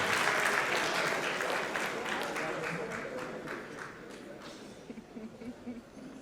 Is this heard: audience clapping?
yes